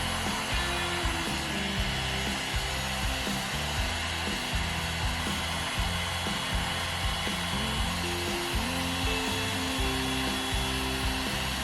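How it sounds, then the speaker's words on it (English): Heat gun blowing hot air over puff ink on a screen-printed shirt, a steady continuous whoosh with a low motor hum, close and unbroken throughout with no talking. "you want to practice moving your heat gun over the print to get an even puff"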